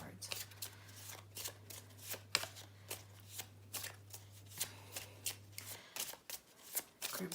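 Deck of moon oracle cards being shuffled by hand, a quick, close run of riffling and slapping bursts in a loose rhythm over a faint background hum.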